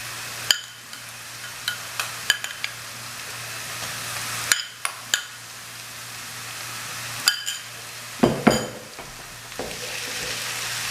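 Ginger garlic paste fries with onions in a pan, a steady low sizzle running throughout, punctuated by sharp clinks and scrapes of a spoon stirring against the metal.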